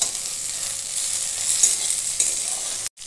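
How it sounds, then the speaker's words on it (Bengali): Yardlong beans and eggplant fry in hot oil and are stirred, giving a steady, close, loud sizzle with light scraping, and a brief clatter near the end. "এইভাবে তেলে ভালো করে নেড়ে এটাকে ভেজে নিতে হবে"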